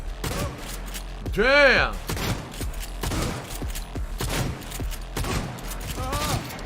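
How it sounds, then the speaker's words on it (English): Shotgun blasts in a video game crack out as a cluster of loud, booming shots early on, with more scattered bangs after, while someone shouts an exclamation over the gunfire. "That guy absorbed 8 shotgun shells before he died."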